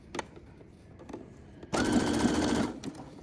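A sewing machine stitches a fabric scrunchie in one steady, close burst of about a second, with quiet handling clicks before and after.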